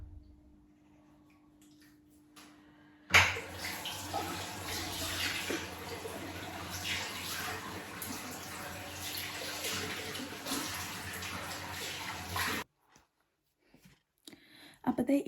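Water running and splashing close by during a face wash, a continuous rushing flow for about nine seconds that cuts off abruptly, followed by a few faint drips and handling sounds.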